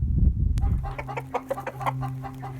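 Free-ranging chickens cluck nearby in a quick, uneven series of short calls, clear and moderately loud, following a brief rustle at the start.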